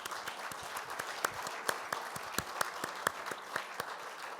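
An audience at a National Press Club inauguration applauds steadily, with dense clapping and a few sharper individual claps standing out, fairly close and sustained throughout.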